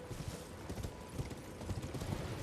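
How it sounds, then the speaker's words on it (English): Horse hooves clip-clop continuously in Elden Ring, a steady moderate-level trotting rhythm of soft, dull thuds beneath faint ambient game noise, with no voices. "there's a guy on a horse here"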